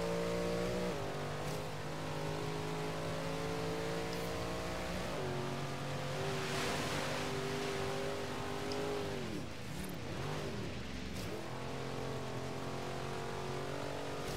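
A Jeep-type vehicle in Forza Horizon 3 ploughs loudly through water, its engine droning steadily with shifting revs and a splashing, rushing wash throughout, close and constant with no speech.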